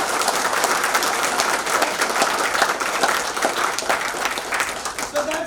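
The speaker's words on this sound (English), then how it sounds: "So can we just clap for each other for being a part of this?" Audience at a motivational speech event clapping for one another, a dense, steady wash of many hands that holds strong and even throughout, with faint voices mixed in.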